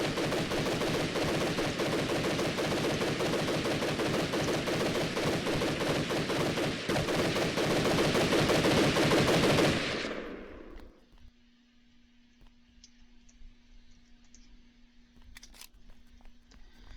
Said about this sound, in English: Okay, so that was the dual drum guns.